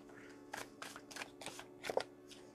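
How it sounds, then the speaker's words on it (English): A deck of tarot cards is shuffled in several quick, soft riffling bursts, faint and close in a quiet room. "I'm going to go ahead and shuffle this up again."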